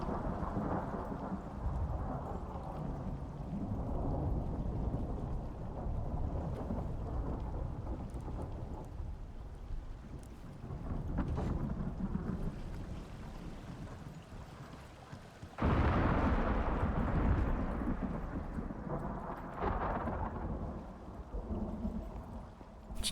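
Thunderstorm in the survival game Icarus, with steady heavy rain and deep rolling thunder rumbling throughout, swelling louder at intervals, including a sudden loud thunderclap near the end, with no talking.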